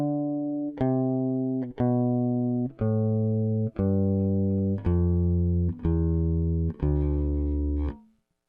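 A bass guitar plays a D Dorian scale in 4th/5th position, eight evenly spaced plucked notes stepping upward, each ringing until the next, close and clear with no voices.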